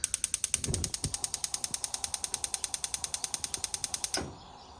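Gas stove burner igniter clicking rapidly and evenly, about forty sharp ticks over four seconds, with a soft whoosh as the flame catches near the end; close and fairly quiet in a home kitchen.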